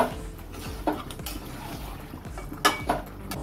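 Spoon stirring yogurt into chicken curry in a pot, a series of scraping, clinking metal strokes against the pot with soft creaks in between, close and moderately loud, no talking.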